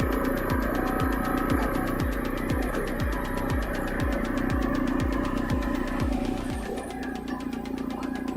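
A 7.5 hp gasoline engine drives a log splitter through a 1:25 reducer, giving a steady, loud mechanical drone with a regular throbbing pulse that holds for most of the run, then eases slightly near the end.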